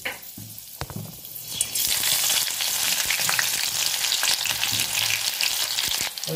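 Dried and green chillies hit hot oil in a home kitchen, with a few clicks and clatters before a loud, steady frying sizzle takes over and runs close and continuous to the end.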